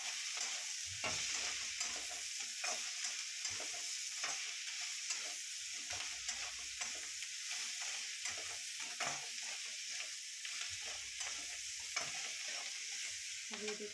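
Chow mein ingredients fry in a pan with salt, giving a continuous bright sizzle broken by repeated stirring and tossing strokes, close and fairly quiet, with no talking.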